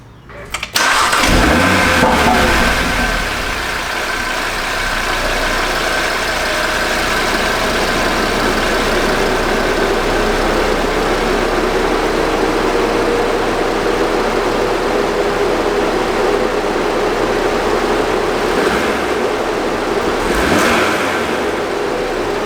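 A stock Audi RS3 engine cranks and fires with a sharp burst, then settles into a loud, steady idle that drones on evenly for about twenty seconds, heard close by.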